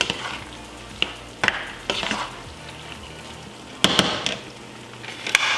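Zucchini pie ingredients being mixed in a pan, with soft stirring scrapes, a faint sizzle beneath, and several sharp utensil clacks against the cookware, close and without talk.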